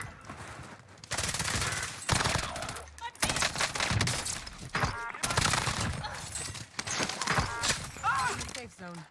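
Gunfire in Warzone on Rebirth Island, a burst-heavy firefight with rapid shots and repeated sharp cracks over several seconds, mixed with game voice lines and a player talking throughout.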